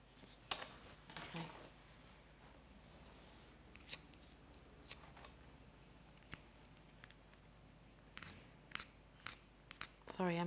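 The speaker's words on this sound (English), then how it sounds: "I'm literally just going to use scissors to do that" Scissors snip at the hair of a rag doll cake, giving a series of short, quiet crisp cuts scattered irregularly with pauses in a close, hushed room.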